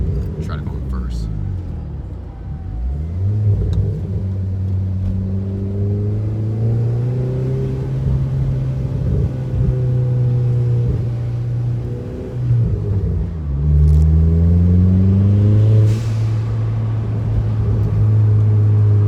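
Chevrolet Cobalt SS fitted with a ZZP exhaust revving up through first gear, a deep rising engine drone that climbs, drops and climbs again, recorded close with voices talking over it.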